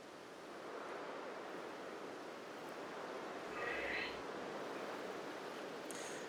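Ocean surf rolls onto Prelude Beach in Pokémon Legends: Arceus, a steady wash of waves heard alone at low volume with a slight swell midway.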